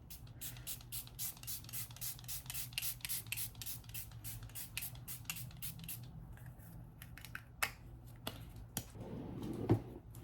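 Rapid bursts of a Makeup Revolution Super Dewy setting spray pump, a quick series of short hissing spritzes, then a few scattered sprays and some rustling near the end.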